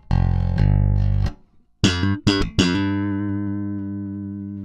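Glarry jazz bass guitar played in a few sustained notes and plucked attacks, deep round tones ringing out and slowly fading, close and alone.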